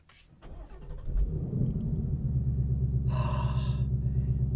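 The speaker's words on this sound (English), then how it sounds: "that great note, that engine growl when you start it up" A Ford Mustang GT fires up by push button: a brief starter crank, then the engine catches with a deep rumbling growl that settles into a loud, steady idle, heard close with no talk.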